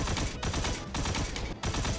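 Rapid bursts of explosive-ammo weapon fire in the Destiny video game, loud and dense with short breaks between volleys, no talking.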